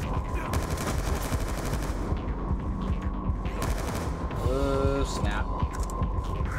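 Dense, rapid automatic gunfire from Call of Duty: Black Ops II, loud sustained bursts over a steady mechanical hum with a brief electronic tone near the end.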